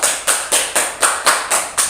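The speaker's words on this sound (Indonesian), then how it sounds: "Tepuk tangan dulu dong untuk Naila." Hands clap in a classroom, a quick steady run of about eight sharp, evenly spaced claps close by.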